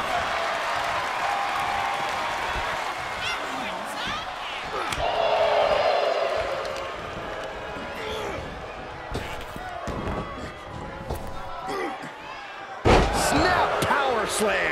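Wrestling slams and impacts in WWE 2K24 during an ECW WrestlePalooza 98 match, Mikey versus Justin Credible, with several loud thuds over a steady crowd roar and commentary, and one sharp heavy crash near the end.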